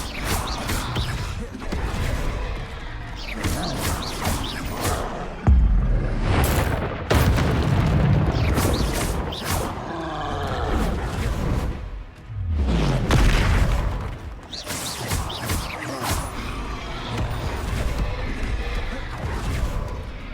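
Repeated booming explosions from the Confringo fire spell in a video game battle against a troll, heavy blasts and crashes one after another, loud and close, with occasional talk between them.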